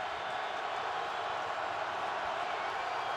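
Dense, steady roar of a large stadium crowd at a Patriots vs Bills NFL game in Buffalo, loud and continuous with no breaks, a wall of cheering noise filling the whole moment.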